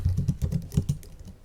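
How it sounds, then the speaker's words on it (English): Quick, uneven clatter of keys on a computer keyboard, close and fairly soft, with no talking. "I'm gonna type this"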